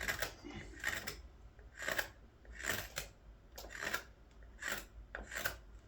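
Carving knife slicing across the grain of a green wood spoon, with about seven close, quiet scraping strokes in an even rhythm and no talking.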